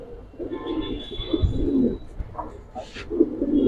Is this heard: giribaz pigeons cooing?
yes